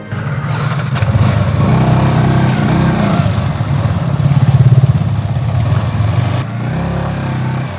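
A motorcycle engine runs close by, a steady throaty rumble that rises a little and then settles, with no voices.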